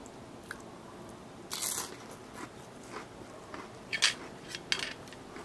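Crunchy bites and chewing of King Oscar sardines with hot jalapeño peppers, a few close, sharp crunches spaced apart over a quiet background with no talk.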